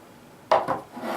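Bolt assembly of a KJ Works KC-02 airsoft rifle lifted out: a short scraping slide of metal parts, followed by a second brief rub and faint handling noise, close and quiet.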